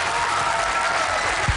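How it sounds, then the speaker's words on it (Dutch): A large audience applauds a singer at a live show, a dense, loud, continuous roar of clapping that fills the whole short moment without pause. "En het publiek gaat jou nog belonen met dit laatste geweldige applaus."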